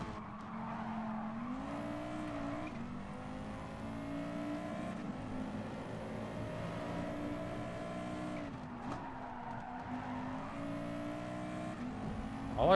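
A Group B rally car engine in the video game Gran Turismo Sport revs and shifts with repeated turbo flutters and whooshes of a blow-off valve between gear changes, steady and fairly close.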